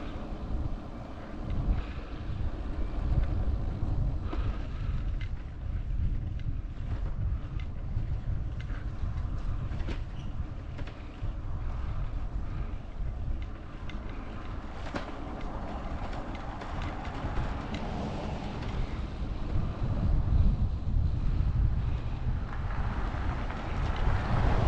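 Wind blows across the microphone outdoors on a country road, a loud, continuous low rumble with gusty buffeting that swells and fades, and no talk.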